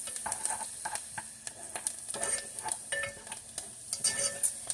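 Parsley and herbs sizzle in a hot pan for a spaghetti-style dish, a soft crackling fry broken by repeated scraping and tapping as a utensil stirs them, fairly close and without speech.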